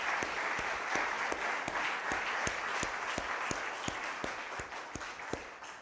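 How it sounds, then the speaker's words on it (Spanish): A church congregation applauds God during a Spanish-language sermon, a steady wash of clapping with sharp individual claps cutting through, moderately distant and sustained throughout without speech. "denle un aplauso a Dios"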